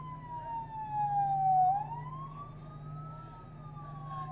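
An ambulance siren wails steadily as the vehicle arrives at a hospital in wartime news coverage, one loud rising and falling tone that dips and sweeps back up, with low engine rumble beneath.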